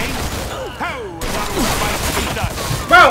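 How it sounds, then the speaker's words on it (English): Gunfire strikes the player character in the Mafia II crime game, a mix of impacts and mechanical clatter amid street noise, ending in a louder burst near the close, with voices talking over it. "I'm getting shot in the back?"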